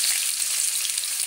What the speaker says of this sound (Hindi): ये प्याज भून गए